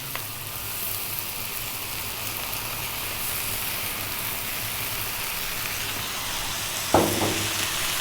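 Cold basmati rice tossed into a hot pan for a cabbage veggie fried rice, giving a steady broad sizzle and frying hiss throughout with a sharper burst of sizzle near the end.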